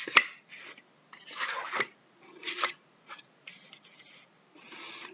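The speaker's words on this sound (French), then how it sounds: "Donc je vous repousse ces cartes." Tarot cards are pushed and slid across a table in several short, dry rubbing and rasping strokes, close and quiet, with brief pauses between them and no talk.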